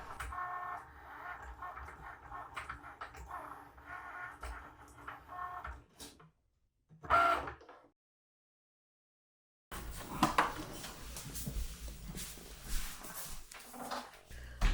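A small Vagabond die-cut machine, which cuts cardboard and chipboard, runs with a low mechanical whir and rumble. It cuts out into near silence midway, then resumes and continues to the end.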